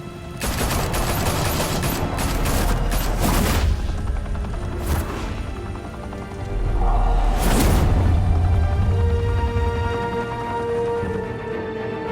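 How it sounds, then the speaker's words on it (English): Gunfire in Batman: The Telltale Series video game bursts in loud, dense volleys of rapid shots and booms, easing and then surging again over several seconds with whooshing impacts. "Open fire!"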